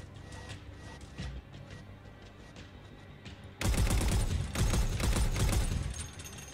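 Machine gun fire in the video game Halo 4: quieter rattling bursts over a steady low game hum, then a loud sustained stream of rapid shots for the last few seconds, close and dense.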